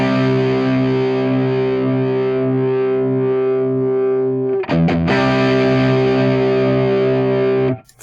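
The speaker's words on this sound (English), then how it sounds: "So I'm mixing a clean amp sound in as well." Electric guitar run through an Axe FX with a clean amp blended in, sustained distorted chords ringing loud with chorus-like shimmer, a brief break near the middle, then another held chord until it cuts off.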